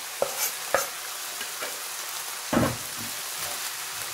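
Samosa filling of vegetables and chopped coriander cooking in a pan, a faint steady sizzle broken by a few sharp scraping stirs and taps of a spatula, close by.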